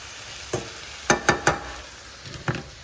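Liver and onions fry in oil, Jamaican style, with a steady background sizzle broken by several sharp scraping stirs, a lone one, a quick cluster of three, then another near the end.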